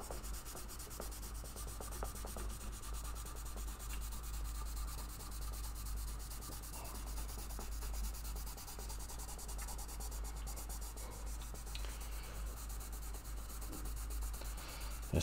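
Excess is wiped off a dry, long-neglected guitar fretboard with a continuous, low, steady rubbing that sounds close but faint. It runs without pause and no one talks.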